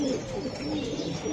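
Racing pigeons at a market stall, kept with eggs and chicks, give a low, soft, throaty cooing that runs steadily through a brief moment, fairly faint with no talking.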